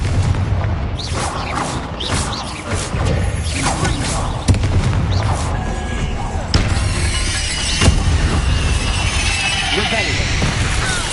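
Repeated Confringo fire-blast spells in Hogwarts Legacy make a running series of booms and crackling bursts over about eleven seconds, dense and loud, mixed with busy game sound and a voice calling out.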